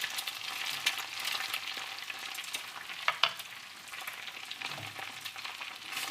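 Egg stirred together with vegetables in a frying pan for homestyle Chinese fried rice: a steady sizzle with scattered spatula scrapes and clinks, close up and with no talk.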